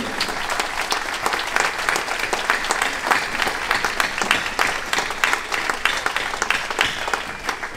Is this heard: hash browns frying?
no